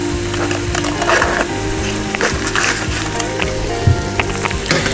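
Pure Irish butter sizzles in a pan with oyster mushrooms, a steady loud crackling fry with low rumbling underneath and occasional clicks of a utensil moving the mushrooms.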